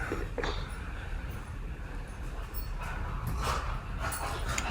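Dogs in cages bark and whimper continuously, a loud, close jumble of yips, whines and barks with no pauses.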